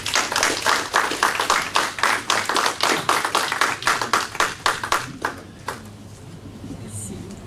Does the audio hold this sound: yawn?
no